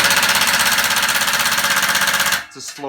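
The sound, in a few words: Milwaukee Fuel 3/8 inch impact wrench 2754 hammering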